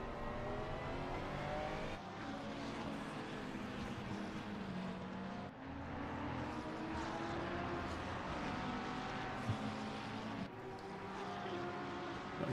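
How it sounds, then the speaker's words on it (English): Onboard engine of the number 70 Lamborghini race car lapping Spa in a sim race, a steady loud drone with repeated rises and sharp drops as gears shift, no voices. "Now we're on board with Josh Lodge, who is just behind Mike Matson in the number 70 Lamborghini."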